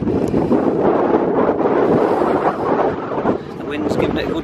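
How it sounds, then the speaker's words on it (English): Wind buffets a solo tent at a wild camp near Mardale Ill Bell, a loud continuous rushing roar across the microphone with gusty swells, as a voice speaks briefly. "the wind's giving it a good test"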